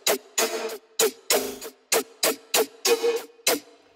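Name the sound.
Serum synth lead with reverb filter, compressor and EQ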